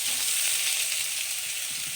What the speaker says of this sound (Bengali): আলুগুলোকে একটু ভাজা ভাজা করবো